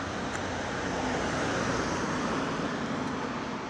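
Steady rumble of Go-Ahead London bus E244 running along route 89, a broad, even road and engine drone that holds at constant loudness with no breaks or talk.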